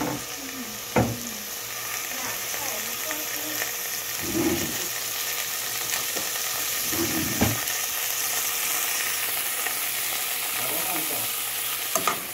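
Coriander, onion and a large garlic clove sautéing in oil for hot dogs, a steady close sizzle with a few low bubbling bursts and light stirring knocks, no one speaking.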